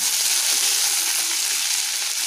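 Chopped tomato frying with onions in a pan for a pona fish jhal, a steady, loud, dense sizzle throughout with no talking.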